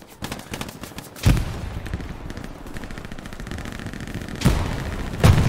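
Gunfire in the World War II shooter Hell Let Loose: rapid automatic bursts crackle in the mid-distance, with several heavier, louder shots cracking close by.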